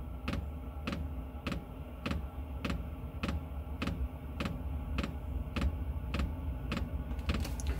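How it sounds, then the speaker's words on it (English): A 5 kW diesel heater in a Toyota Hiace camper clicks steadily as its fuel pump ticks in a regular rhythm, about twice per second, over a low running hum that builds as the heater ignites and starts to run. "There's ignition."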